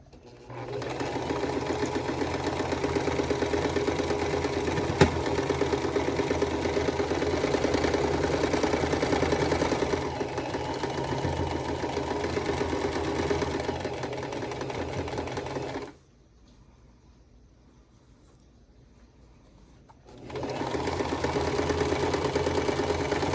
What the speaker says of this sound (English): Slow down over those seams because my machine does not like it